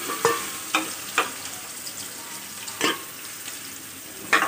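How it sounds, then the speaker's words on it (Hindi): Paneer shallow fries in oil in a kadhai, a continuous close crackle of frying broken by several sharp stirring and scraping knocks at irregular intervals. "ये सेलो फ्राई होने लग गया है"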